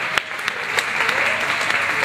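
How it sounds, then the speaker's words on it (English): Crowd applause at a ballroom dance competition: continuous, fairly loud clapping with a few sharper individual claps standing out, and faint voices beneath. "Please give them a round of applause."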